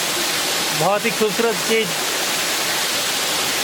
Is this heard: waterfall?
yes